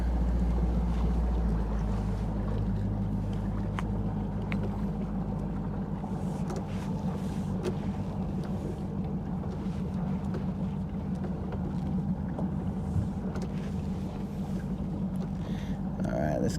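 A fishing boat cruising on a lake during bass fishing, its outboard motor droning low and steady for the whole stretch, with wind buffeting and water rushing past.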